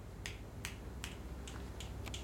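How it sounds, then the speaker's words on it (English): Six crisp finger snaps at a roughly even pace, quiet and fairly close, over a low background hum with no talking. "I want you to snap your fingers."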